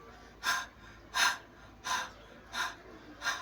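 A voice imitates a dog panting, with five rhythmic, breathy huffs evenly spaced, close to the microphone with no talking.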